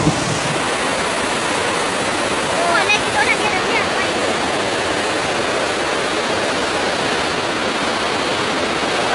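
Continuous roaring rush of fast-moving floodwater from heavy rains flooding a town in Henan Province, China, loud and unbroken throughout.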